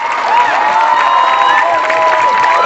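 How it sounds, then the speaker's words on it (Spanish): A crowd cheers and claps together, a dense wash of applause and shouts that holds steady from start to finish. "yo quiero un fuerte aplauso"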